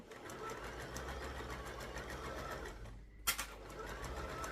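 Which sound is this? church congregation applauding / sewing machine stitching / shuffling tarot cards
sewing machine stitching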